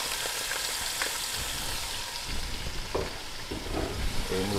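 Food in a pot of hot oil is stirred in a Cameroonian kitchen, a close, steady frying hiss with soft scraping and occasional light knocks of the spoon.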